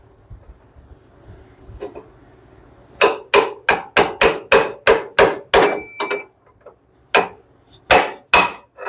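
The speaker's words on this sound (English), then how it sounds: "See if the old pickle fork will come in for us here." A hammer drives a pickle fork to split apart a part on a broken Allis Chalmers tiller, landing a rapid series of about a dozen sharp metallic blows close by, then a few more strikes after a short pause.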